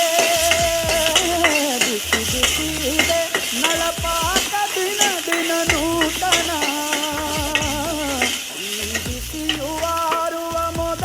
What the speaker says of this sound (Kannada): ಆಯಿಲಲ್ಲಿ ಫ್ರೈ ಮಾಡ್ಕೊಳ್ಳೋಣ